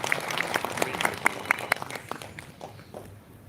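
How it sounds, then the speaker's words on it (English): An audience claps at a book release function in Tagore Hall, a short burst of fairly close, uneven applause that thins and fades out after a couple of seconds. "Give him a big round of applause."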